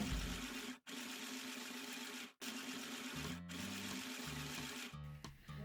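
A mini sewing machine stitches along a fabric infinity scarf from end to end, a steady mechanical whir that runs continuously with a few brief stops in between.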